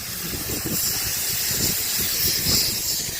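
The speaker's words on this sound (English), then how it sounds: "Wow, very noisy train up ahead." A steam train at the WA Railway Museum in Bassendean hisses in a steady, broad wash of steam, with faint rumbling pulses beneath it.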